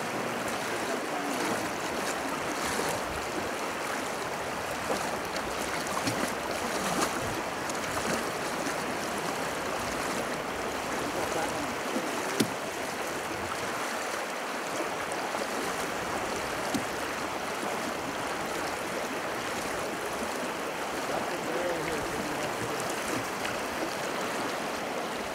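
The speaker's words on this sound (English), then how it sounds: "It's a pretty fast water." Fast-flowing river water on the Methow River rushes in a steady, dense wash from start to finish, close and continuous with no speech.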